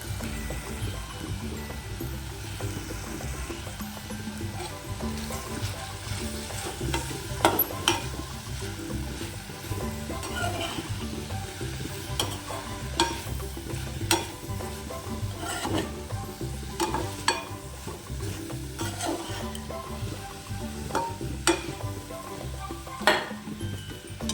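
Tinda sabzi fries in a pan as chili, turmeric and garam masala are stirred in, giving a continuous sizzle broken by frequent scraping and clinking of a spatula against the pan.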